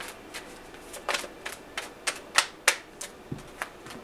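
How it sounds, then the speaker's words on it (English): Tarot cards being shuffled by hand, a series of crisp, irregular snaps and flicks of the deck, with several louder slaps as three cards fall out, heard alone and up close. "You had 3 cards fall out"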